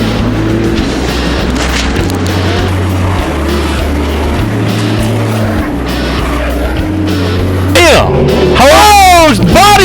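Loud racing engines roar through a wreck in turn one of a stock car race, with a driver body-slamming into a rival, tires squealing and screeching near the end, under excited commentary.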